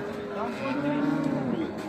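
A single docile dairy cow with a calf moos in one long, low, drawn-out call, close and clear.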